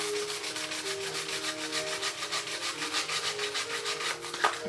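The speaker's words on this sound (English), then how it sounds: "roughly sand this down" A wooden nativity craft piece is hand sanded roughly, with quick, even back-and-forth rasping strokes close up in a steady rhythm of about four per second, heard alone.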